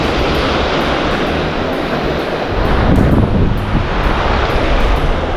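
Foamy surf breaks continuously along the shore at Honeymoon Island beach, mixed with steady wind buffeting the microphone, a loud broadband wash that swells slightly halfway through.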